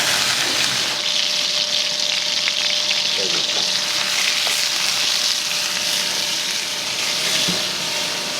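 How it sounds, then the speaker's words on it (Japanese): Seasoned rice (aji-meshi) stir-fried in a pan at a Fukuoka udon and soba shop, a steady, close sizzle with scraping stirs running throughout, no voices over it. "味ご飯炒めて出来たてのご飯でのっけて混ぜて"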